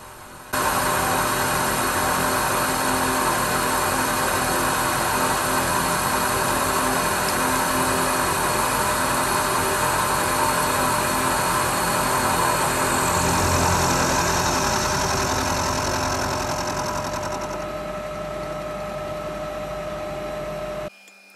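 A milling machine cuts cast iron in a home workshop, running as a loud, steady machine drone with a continuous bright cutting hiss that holds for most of the stretch, dips late and then stops abruptly.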